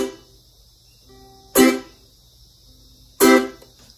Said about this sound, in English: you follow through with your fingers and land on the strings so that you're muting the sound like this